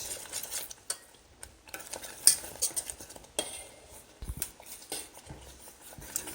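A spoon scrapes and clinks around a pot of boiling maple syrup pie mixture, with soft bubbling under steady, fairly quiet stirring and no talk.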